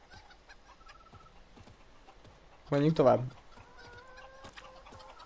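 Chickens in The Witcher 3 give a short burst of loud, close clucking and squawking mid-scene, with quiet game ambience and occasional hoof clops around it.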